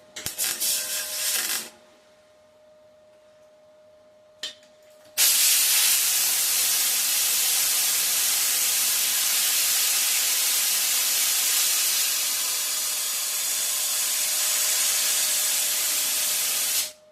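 MIG welding on a Ford Zodiac MKIV body panel produces a loud, steady crackling hiss in two runs: a short burst, a pause with a faint tone, then a long continuous weld.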